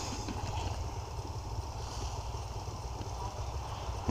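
Dirt bikes from a hare scramble race on Vancouver Island pass by, a steady low engine drone holding throughout, with a sudden louder burst right at the end as one nears.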